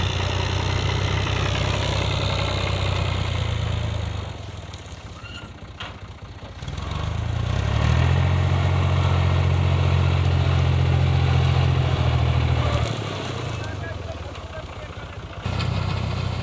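A tractor engine idles during the wheat harvest, a steady, close low rumble whose pitch and loudness shift a few times as the throttle changes.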